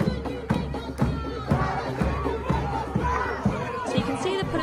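Crowd clashing with police outside the High Court, a dense roar of shouting voices with repeated sharp bursts and cries rising above the din, close and loud throughout.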